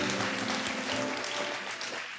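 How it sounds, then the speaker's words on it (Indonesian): A church congregation claps together for a short moment. The applause is dense and fairly loud and fades a little toward the end. "Kasih tepuk tangan yang paling meriah buat Tuhan."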